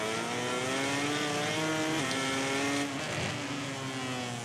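A MotoGP 18 racing motorcycle brakes hard into a hairpin, its high engine note dropping in stepped downshifts and pitch falls, loud and continuous throughout.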